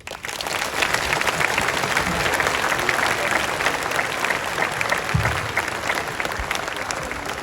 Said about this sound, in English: give a round of applause for John